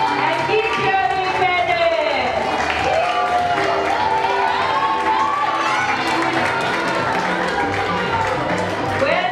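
Parents cheering and clapping at a preschool annual day crawling race, a lively crowd of excited voices and shouts over an announcer's talk, close and continuous.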